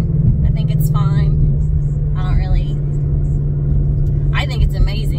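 A 2017 Ford Mustang GT with a GT350 Ford Performance adjustable exhaust and track handling suspension, driving with a steady low engine rumble heard from inside the cabin while people talk over it.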